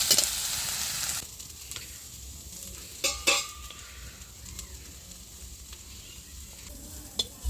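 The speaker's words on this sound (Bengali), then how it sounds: "ভালো করে নাড়িয়ে নেব একটা ভালো করে ভাজা করতে হবে" Spice paste frying in a pan hisses loudly for about a second, then drops to a quiet simmering crackle broken by occasional clinks of a stirring utensil against the pan.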